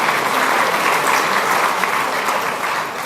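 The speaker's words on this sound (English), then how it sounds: "A big round of applause for the people on table number 5." A banquet crowd at an anniversary celebration claps loudly and steadily for a table of guests, a dense, even wash of applause that tapers slightly at the end.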